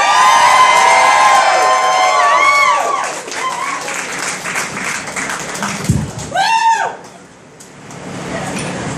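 A comedy club crowd bursts into loud applause and cheering with whoops and shouts, strong at first, then thinning into scattered clapping with a brief whistle-like cry near the end.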